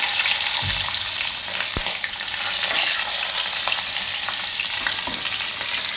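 Green chillies fry in hot oil for a green tomato sambharo, giving a steady, close broadband sizzle throughout with a few faint clicks of stirring and no talk.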